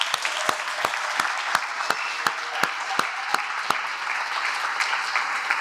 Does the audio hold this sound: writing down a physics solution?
no